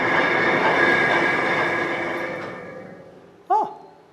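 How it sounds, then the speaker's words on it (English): A locomotive wheeldrop table lowers with a loud, steady mechanical rumble and whine that slowly fades as it descends, then a short metallic screech rings out near the end as secondary tracks slide into place. "Secondary tracks are now sliding in above me."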